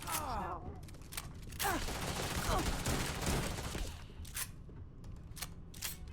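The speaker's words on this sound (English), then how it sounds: "you don't want to talk now in the middle of a firefight, really, do you?" Rapid gunfire in a firefight in the Starfield video game, bursts of sharp cracking shots and volleys repeating throughout, loud and close over a busy background.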